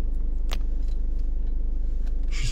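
Steady low engine hum and road rumble inside a vehicle, with a few faint jingling clicks and a brief rustle near the end.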